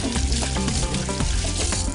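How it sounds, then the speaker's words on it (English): Loud, steady sizzling and crackling of goujons frying in hot oil, close up and continuous with no talking. "Now for the fun part, the frying, and the oil is just hot enough."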